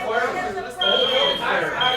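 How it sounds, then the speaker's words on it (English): A fire alarm sounds in a hall during a free-speech event, a high steady electronic tone cutting in and out over a crowd of people talking. "fire alarm just went off"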